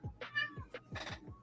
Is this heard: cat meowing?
yes